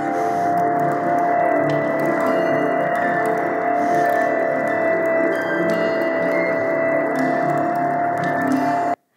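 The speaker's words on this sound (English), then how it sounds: "And so what you just heard is a data sonification." A data sonification of a James Webb Space Telescope image plays as a steady layered drone of sustained tones, with a bright held pitch over rich lower harmonics, continuous and even throughout before cutting off at the end.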